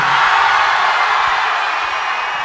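Loud, sustained applause and cheering from a large audience at a film promotion event for the military movie Amaran, a dense continuous roar that fades slightly toward the end.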